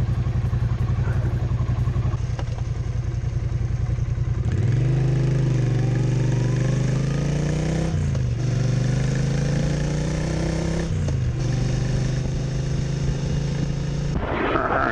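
Triumph Street Cup motorcycle engine ridden with its air snorkel removed: a loud, close, continuous exhaust note that climbs in pitch through the revs, with two brief dips at gear changes before it pulls again.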